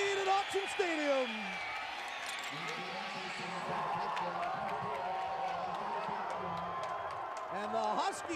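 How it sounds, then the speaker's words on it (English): Stadium crowd noise at Autzen Stadium during a 2002 Washington at Oregon college football game, with Husky fans cheering in a steady roar under continuous play-by-play commentary. "the Husky crowd at Autzen Stadium loving it"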